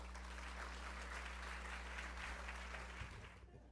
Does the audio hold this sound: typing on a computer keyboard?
no